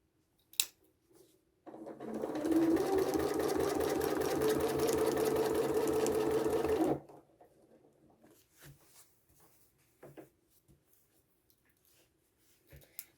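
Sewing machine stitching a quilted placemat with ruler work, a steady fast mechanical run of about five seconds, close, then stopping, followed by light clicks and handling noises.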